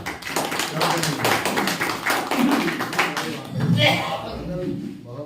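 Audience at an Urdu mushaira poetry gathering and seminar claps in a dense burst of applause that rises and falls, with voices mixed in around the clapping.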